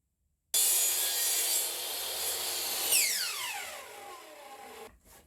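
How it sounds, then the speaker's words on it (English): A power chop saw bites through wooden trim in a single pass, giving a loud, close, steady cutting whine for about four seconds, then a falling spin-down as the blade slows before stopping. "nick off a 1/2 inch here and here all in one pass on the chop box"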